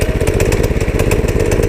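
A small Predator gasoline engine on a 1970s minibike runs close by with a rapid, buzzing putter, revving steadily and loudly in a short burst.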